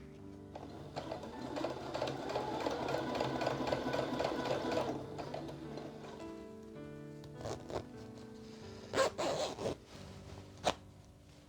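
A sewing machine stitches steadily for several seconds while sewing a zipper into a drop waist skirt, then slows into a few short bursts with small clicks and handling noises between them.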